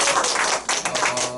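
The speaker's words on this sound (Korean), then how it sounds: "이럴 때 박수 주셔야 되는 거 아니겠습니까?" Lecture audience giving applause: a burst of many hands clapping together, dense and close, continuing through the moment with slight rises and dips.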